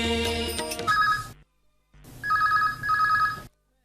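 A telephone rings on a call into a radio station, two bursts of electronic ringing separated by a short silence, close and clear.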